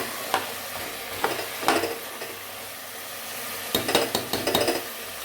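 Mutton sizzling in a pan with ginger garlic paste, a low steady fry broken by clusters of sharp metal stirring clinks and scrapes, close and moderately loud.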